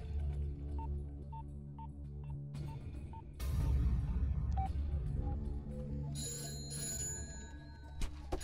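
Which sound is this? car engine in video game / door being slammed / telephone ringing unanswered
telephone ringing unanswered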